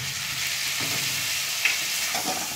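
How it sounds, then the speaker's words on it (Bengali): Continuous sizzling in a pan as vegetables are sautéed with salt and tomato paste, an even close hiss broken by a few light stirring scrapes. "এবার একটু কষিয়ে নেব। আমি একটু লবণ দিয়ে দিলাম আর একটু টমেটোকে পেস্ট করে নিয়েছি দিয়ে দিলাম।"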